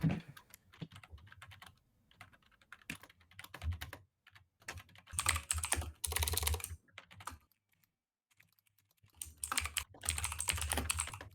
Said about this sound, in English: And the typing starts.